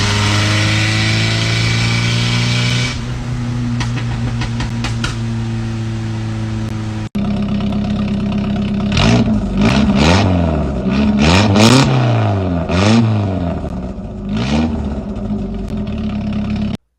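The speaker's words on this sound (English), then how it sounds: "when I had a 4-cylinder engine in here, I had it straight piped" A straight-piped 4-cylinder engine in a Chevy S10 pickup runs loud and close, holding a steady drone and then rising and falling through a series of sharp revs with no one talking.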